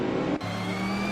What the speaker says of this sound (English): Shipperman is in 4th place, driving a 2015 Porsche